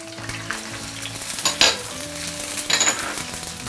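Scallion, ginger, coriander stems and small chili sizzling in hot oil in a wok, with a steady loud fry and a couple of sharp metallic scrapes from stirring.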